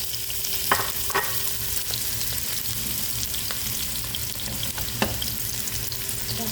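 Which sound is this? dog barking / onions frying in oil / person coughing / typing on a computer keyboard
onions frying in oil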